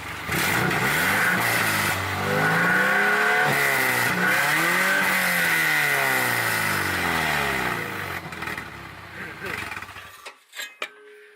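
Subaru engine revving with the turbo spooling, rising and falling rpm sweeps in repeated loud pulls, close to the exhaust, before cutting off abruptly near the end.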